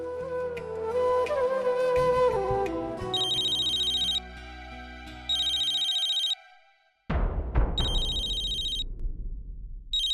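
A telephone ringtone trills in repeated electronic bursts over dramatic background music in an indoor family-drama scene, each ring loud and bright before pausing and starting again.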